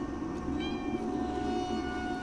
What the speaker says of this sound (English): The cat wants to be in the video.